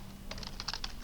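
Short burst of typing on a computer keyboard, a handful of quick, close key clicks over a faint steady hum, with no voices.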